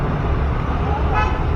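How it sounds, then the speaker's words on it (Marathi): Busy road traffic at a main signal junction: a dense wash of car and motorbike engine noise close by, with a short horn toot standing out near the end. "गाड्या वगैरे येत आहे सध्या."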